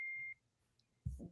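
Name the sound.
electronic device beeping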